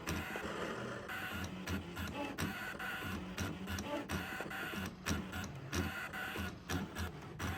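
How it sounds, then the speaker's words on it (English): A Brother Scan N Cut SDX325 rotary cutter slicing fabric, a continuous mechanical whirring drone with rhythmic stepping clicks and jumpy pulses as the head moves, steady and close with no speech. "The rotary cutter kind of jumps around. It takes a little longer to cut"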